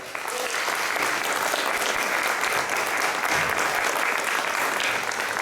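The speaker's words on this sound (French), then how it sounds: "Et je pense qu'on peut l'applaudir bien fort." Loud, dense audience applause fills a mentalism magic show, a steady wash of many hands clapping together without a break.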